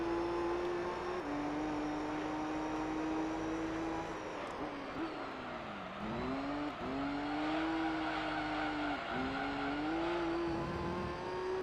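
Suzuki Escudo race car in Gran Turismo 3, a steady loud engine drone that dips and swoops with gear changes and skids, with tire squeal mixed in throughout.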